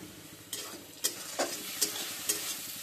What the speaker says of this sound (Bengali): এখানে আমি নুনালিশ রান্না করব, তাই পেঁয়াজ আর রসুন ভেজে নিচ্ছি।